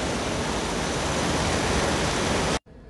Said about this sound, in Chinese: 近距離接觸瀑布啊！